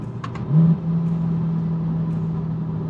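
A new C8 Corvette Z51 gives a short, loud engine rev with an exhaust burble near the start, then settles into a steady low idle rumble with no talk over it.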